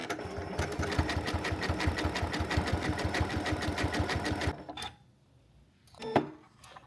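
A Janome M7 sewing machine stitches fabric in a fast, steady run of needle strokes for about four and a half seconds, then stops, followed by a couple of faint clicks and a brief handling knock.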